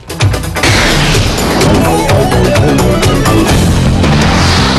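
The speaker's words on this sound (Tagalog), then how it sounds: "LPG tanker truck, 2 beses sumabog sa isang highway sa Turkey" A roadside LPG tanker truck explosion on a highway in Turkey erupts in a deep, loud boom, then a sustained roaring blast and rumble that continues unbroken, with faint voices underneath.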